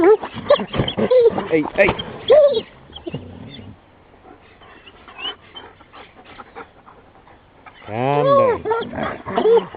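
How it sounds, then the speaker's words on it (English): A dog on the Argentine pampa barks and howls in loud bursts with rising, wavering tones. The loudest howl comes near the end, and someone speaks to it in between. "There's the singing dog."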